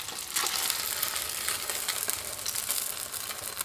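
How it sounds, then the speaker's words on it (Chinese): A chicken cutlet pan-fries in a little oil over medium-low heat, giving a steady close crackling sizzle with brief spatters throughout. "中小火慢煎，防止煎糊。"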